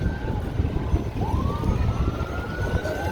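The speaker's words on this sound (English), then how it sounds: "And then you got a boat with a siren." A siren on a police or medical boat on the Chicago lakefront near Navy Pier rises in a clear wailing sweep over loud wind and outdoor rumble, fairly close and strong.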